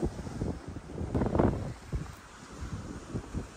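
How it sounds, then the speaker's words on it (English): Wind gusts across a rainy, chilly surf-fishing shore at Seward, Alaska, producing loud, rumbling buffeting against the microphone with a swell in the middle, and no speech. "It is definitely windy"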